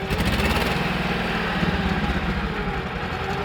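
A Wisconsin TJD engine fitted to a Bolens 1250 garden tractor runs steadily with a throaty, buzzing drone, close and fairly loud, holding its speed throughout without a clear rev-up.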